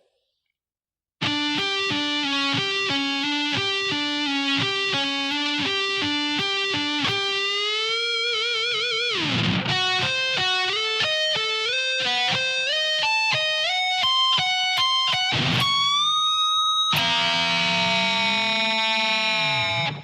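Distorted electric guitar slowly playing a solo, with sustained held notes and bends, then a wavering dive around the middle and a screaming high section near the end, loud and alone.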